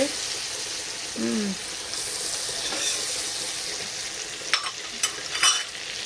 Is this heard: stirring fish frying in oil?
yes